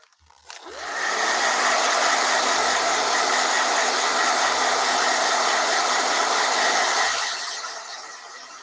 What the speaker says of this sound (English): I'm going to do one last blow dryer.